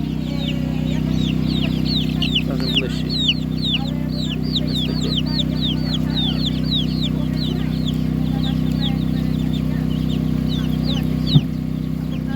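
Many young chicks cheep in rapid overlapping peeps at an animal market in Ukraine, with a steady low hum beneath and a voice speaking briefly.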